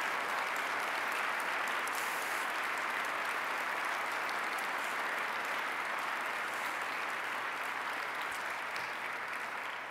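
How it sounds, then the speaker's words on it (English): Sustained audience applause fills a keynote hall at an MLK Day event, a dense, loud, steady wash of clapping that holds evenly throughout with no talk over it. "Give the children of Birmingham a round of applause for marching and saying we wanted a better way."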